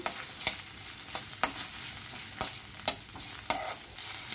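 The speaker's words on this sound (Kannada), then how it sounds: "ಹಸಿ ಶುಂಠಿ, ಹಸಿಮೆಣಸಿನ್ಕಾಯಿ, 1 ಸ್ಪೂನ್ ಜೀರಿಗೆ, ಮೆಣಸು 1 ಸ್ಪೂನ್. ಸ್ವಲ್ಪ ಫ್ರೈ ಮಾಡೋಣ ಇದನ್ನು." Ginger, green chilli, cumin and pepper fry in a pan for a goat leg soup masala, giving a steady soft hiss broken by regular scraping stirs, close and fairly quiet with no voices.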